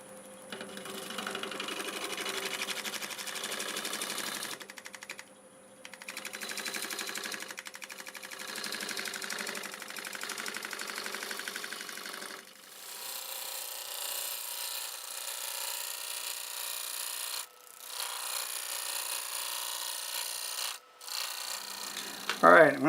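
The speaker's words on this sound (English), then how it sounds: "I resharpened my 1/2-inch bowl gouge. I want to take one more cut across this." A juniper blank spins on a wood lathe while a freshly sharpened 1/2-inch bowl gouge takes a cut across it, producing a faint, sustained scraping hiss that halts briefly several times and resumes.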